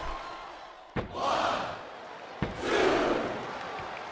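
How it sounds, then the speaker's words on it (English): Arena crowd in WWE SmackDown vs Raw 2007 during a John Cena vs Gunther TLC match, its roar swelling twice between sharp slams from the ring, loud and close. "This capacity crowd is making their opinions known tonight."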